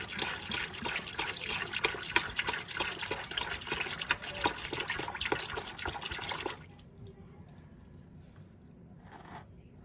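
Automatic transmission fluid from a Subaru Impreza 2.5L drains into a drain pan: a steady, close pouring stream for several seconds that then thins to faint, sparse drips.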